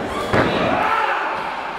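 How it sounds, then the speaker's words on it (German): A wrestling clothesline lands in the ring corner, a single sharp slam thudding against the ropes and turnbuckle, followed by continuous crowd noise and arena commentary. "Clothesline in der Ringecke für Leon van Gasteren"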